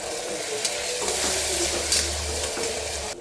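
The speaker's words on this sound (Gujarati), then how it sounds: "સેજ એવું પાણી નાખીશ, મસાલો આપણો બળે નહીં એટલે." Masala frying in a pan for a brinjal and potato curry sizzles steadily as a little water is added, a close, continuous crackle with faint stirring scrapes and no talk.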